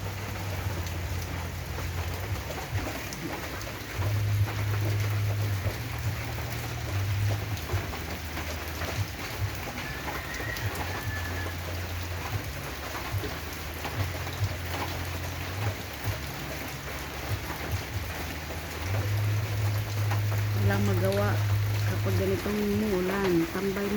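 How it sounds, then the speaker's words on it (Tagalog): Steady rain patters outside, a constant soft hiss with faint drips, while people talk quietly in the background. "nakita nyo, pumapatak ang ulan. Ang ulan. Maulan sa labas."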